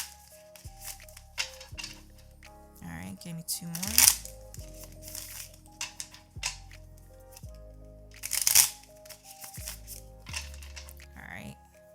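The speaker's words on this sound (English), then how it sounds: "I'm using a different deck, so that's why you guys hear me shuffling" A tarot card deck being shuffled close up in repeated bursts, with crisp riffling and snapping cards between pauses while a person speaks over it.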